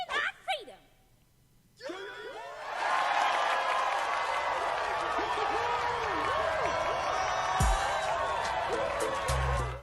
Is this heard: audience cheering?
yes